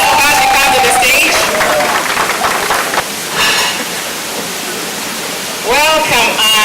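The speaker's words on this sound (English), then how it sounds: "Would you please clap for her to come to the stage?" A conference gala audience claps steadily and densely as a woman is invited to the stage, with a voice talking over the applause before it thins out.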